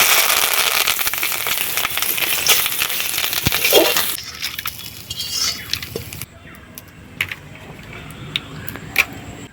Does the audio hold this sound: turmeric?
yes